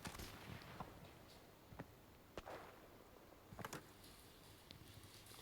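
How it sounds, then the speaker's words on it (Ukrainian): Scattered sharp, distant booms and bangs, several isolated hits spread unevenly, over a faint noisy background like game audio. "О, вже якісь вибухи."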